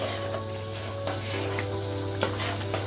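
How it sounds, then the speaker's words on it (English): Chicken Kashmiri curry with tamarind being stirred in a pan, giving a soft, steady sizzle of oil with a few light spoon scrapes and taps, close by and fairly quiet, with no talking. "Just give everything a nice stir now."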